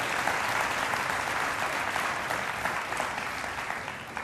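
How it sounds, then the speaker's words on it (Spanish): Steady applause from an audience at a preaching event, dense and sustained throughout at a moderate level with no voices over it. "Den un aplauso al rey."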